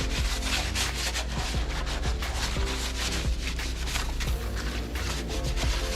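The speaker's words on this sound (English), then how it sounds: "Now again, the blower, we're just gonna wipe it down with a wipe." A wipe rubs over a gas-powered leaf blower, cleaning off dust and dirt in steady back-and-forth strokes that are close and continuous throughout.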